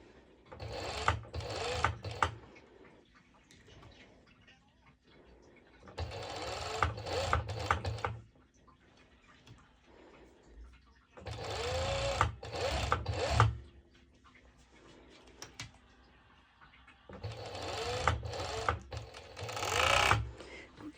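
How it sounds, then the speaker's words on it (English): A serger overlocks the edges of lining fabric in four separate runs of rapid, close mechanical stitching, each lasting a couple of seconds, with quiet fabric handling in between. "Okay, so now I have the lining serged, the main fabric serged"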